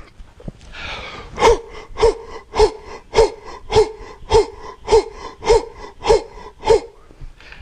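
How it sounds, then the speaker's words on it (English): Rhythmic breathing during a Cellercise routine, with about ten forceful, evenly spaced breaths repeating roughly every half second, close and loud, without speech. "Okay, we're gonna do breathing again."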